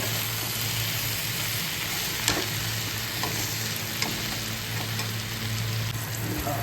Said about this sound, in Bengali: আবার অল্প ভাজিটাকে লেড়ে ছেড়ে নেওয়া হচ্ছে